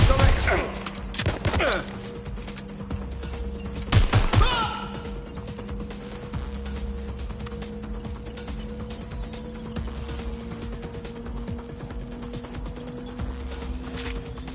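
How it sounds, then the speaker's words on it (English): Gunfire in the video game Watch Dogs Legion, a few loud bursts of shots near the start and again around four seconds, then a steady humming background with scattered clicks and faint voices. "Getting shot at here!"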